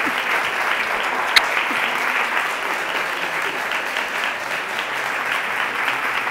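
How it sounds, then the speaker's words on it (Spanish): An audience at a storytelling performance applauds steadily, a dense wash of clapping that holds evenly throughout at close range. "¿me podéis volver a aplaudir?"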